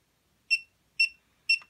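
A Hubsan H122D Storm drone controller beeps in bind mode: three short, crisp electronic chirps spaced about half a second apart, close and quiet, with no talking.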